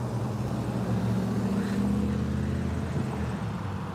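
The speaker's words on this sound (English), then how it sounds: "I hear an engine sound right now when they pull." Trucks and cars pulling up, a low, steady engine rumble that stays moderately close and even throughout without distinct revs.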